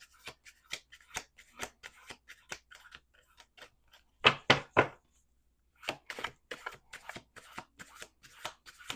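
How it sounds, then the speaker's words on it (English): Tarot-style cards are shuffled by hand in rapid crisp riffles and taps, close and dry, with a few louder snaps partway through and short pauses between bursts. "2 more shuffles."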